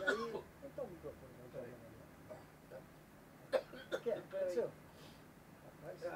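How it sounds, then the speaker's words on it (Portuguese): A cameraman coughs several times in short bursts, close and fairly faint, with quiet gaps between the coughs. "A tosse do nosso câmera."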